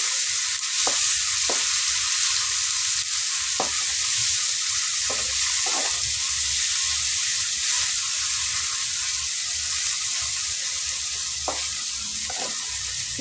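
Onions fry with hand-mashed tomato in a pan for veg kurma, holding a constant bright sizzle with a few sharp scraping stirs spaced through it.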